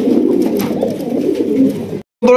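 Black Lahori pigeons cooing close by, a low rolling burble that continues for about two seconds, breaks off briefly, then starts again.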